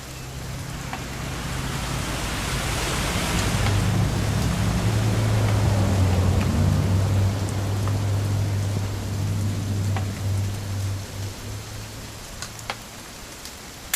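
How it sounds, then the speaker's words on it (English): Steady rain hiss from the game What Remains of Edith Finch, with a low rumble beneath it that swells in the middle and fades toward the end, holding constant for about fourteen seconds with no voices. "It's gonna rain the whole weekend, isn't it?"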